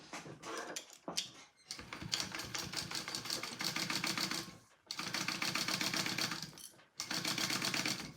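A home sewing machine running a long basting stitch: loud, close, rapid mechanical chattering in several sustained runs separated by short pauses.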